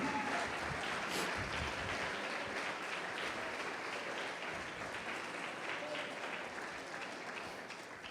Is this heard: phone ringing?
no